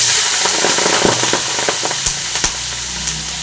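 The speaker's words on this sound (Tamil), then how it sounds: "இப்போ எண்ணெய் சூடாகிடுச்சிங்க. பிரண்டையை மட்டும் போட்டு நல்லா ஃப்ரை பண்ணிடலாம்." Fresh green veldt grape stems crackle and pop as they fry in hot oil, sharp sizzling snaps bursting irregularly over a constant hiss, close and loud with no talking.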